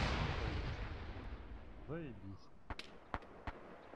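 A tank cannon booms in the World War II combat game Arma 3 Iron Front, a fading rumble followed by several sharp distant shots, faint and mixed with a brief voice.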